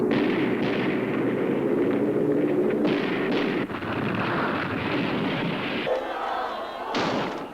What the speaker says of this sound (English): I think probably in a minute we shall have the sound of guns in the immediate vicinity.